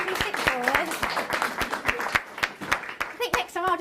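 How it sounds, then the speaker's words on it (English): An audience claps for sixth graders at a school event, with sharp, distinct handclaps in an uneven rhythm while voices talk and exclaim over the clapping. "Give a round of applause to all our lovely sixth graders"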